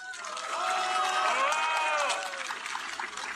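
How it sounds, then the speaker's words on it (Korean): Applause from an audience at a political speech: a dense wash of clapping rises and holds for a couple of seconds and then tapers, heard alongside a voice speaking over the hall's sound system. "박수 한번 주십시오."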